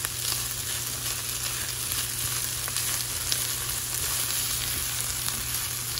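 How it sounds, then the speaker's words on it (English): Paneer frying with aromatics in a large skillet, a constant dense crackling sizzle with a steady hum beneath, even and close throughout. "The paneer in, and I'm going to cook it with the aromatics for a little bit before I add the spinach."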